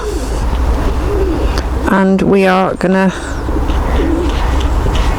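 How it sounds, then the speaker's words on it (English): Pigeons coo inside an old windmill, a short burst of clear, close cooing in the middle, with someone talking before and after under a steady low hum. "You can hear the pigeons"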